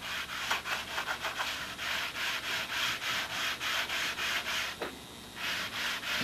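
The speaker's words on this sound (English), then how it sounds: "I use the electric, the vibrator sander, and of course a block to finish it off." Wood on a model Spitfire being sanded with an electric vibrating sander, a steady run of rhythmic rasping strokes close up, pausing briefly near the end before resuming.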